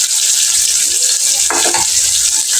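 A ginger, garlic and cumin paste fries in a pan on the stove, a loud, close, steady sizzle with a brief bubbling burst in the middle.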